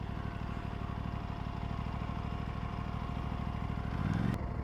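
An Aprilia RS 457 motorcycle engine hums steadily while being ridden, a constant mid-pitched drone with wind noise that swells slightly near the end, heard from the rider's position.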